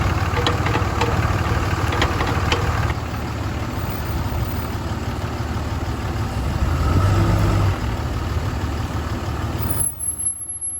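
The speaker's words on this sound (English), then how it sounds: "I'm going to drive around the neighborhood, make some hard left and right turns" Dodge Ram pickup truck on a neighborhood test drive with hard left and right turns after U-joint replacement, a steady close engine drone and road rumble throughout, fading out abruptly near the end.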